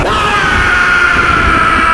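A loud, sustained scream from the film Kanguva holds steady for the whole moment, harsh and unbroken, with no speech.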